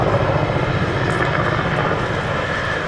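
A restored historic helicopter flies at the Duxford Battle of Britain air display, its rotor and engine producing a loud, steady, throbbing roar that sits close and fills the whole clip.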